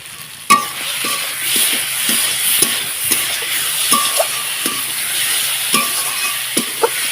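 Loud, close frying of a spice paste with radhuni in a pan, a constant bright sizzle broken by repeated scraping strokes and taps of a stirring spoon against the metal.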